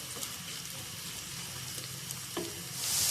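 Sliced onions fry in about a cup of hot oil for a chana kofta dish, a steady broadband sizzle running close and even throughout, with a brief clink near the end and the hiss swelling louder in the last moment.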